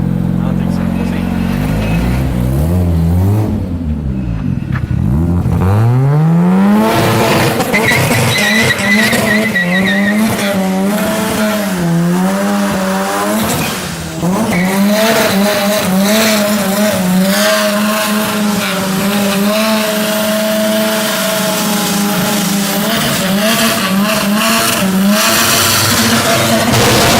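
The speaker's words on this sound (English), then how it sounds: "Can this thing even spin the tires?" A rotary-engine car screams at high revs while spinning its tires, with sustained tire squeal and skidding over a wailing engine that rises and falls; voices and crowd noise run underneath.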